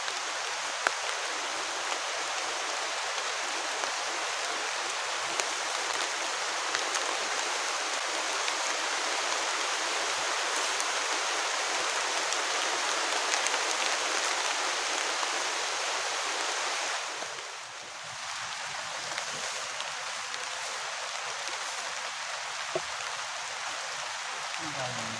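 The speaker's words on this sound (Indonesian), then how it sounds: "Hujannya deras." Heavy rain pours down on a tent at a stormy campsite in a dense, continuous hiss that barely changes, with a brief dip in intensity late on before the downpour resumes.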